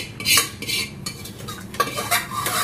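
Food stirred and mixed with a metal spatula in a pan in a home kitchen, heard as repeated close scraping and clinking strokes in an uneven rhythm, with no talking.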